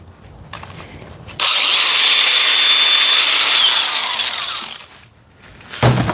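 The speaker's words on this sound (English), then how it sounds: "Who wants to see the grinder again" A power grinder used for cutting electrical strut runs loud and steady with a high whine for several seconds, then winds down, after quieter tool handling noise.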